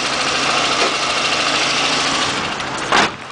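Lada Samara 2109 with a 1.3-litre petrol engine idling steadily under an open bonnet, a loud, close, even mechanical hum and whir with a short louder burst near the end.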